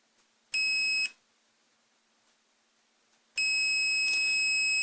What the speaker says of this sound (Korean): 네, 부자음이 울렸다가 이제 줄어들죠.